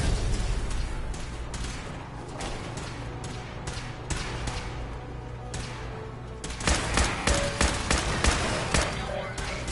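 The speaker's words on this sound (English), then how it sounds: "Who's shooting me in the ass?" Gunfire in Fallout 4 rattles as a stream of rapid shots that grows denser and louder toward the end, over constant game background noise.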